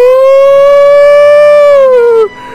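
Emergency vehicle siren in the game Emergency Response: Liberty County, a loud, close, sustained wail that holds a steady pitch, then drops and cuts off abruptly near the end.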